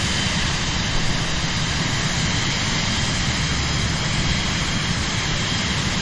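Loud, steady jet engine roar from a big jet in Microsoft Flight Simulator, a continuous broadband drone with a high whine, close and constant throughout with no talking.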